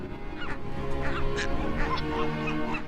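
A dense seabird colony on a remote Indian Ocean nesting island where boobies, frigatebirds and tropicbirds breed, many honking, squawking calls overlapping continuously over a steady wash of wind or surf.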